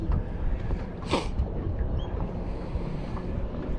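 Wind roars across open water past a small fishing boat out for flathead on a choppy day with an outgoing tide. Steady, loud buffeting rumbles on the microphone the whole time, with a brief gust swelling midway and no talking.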